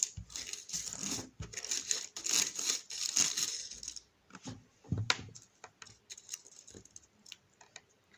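Paper slips being mixed and crumpled by hand, close rustling and crinkling in irregular bursts, denser during the first half and then sparser, with no voices.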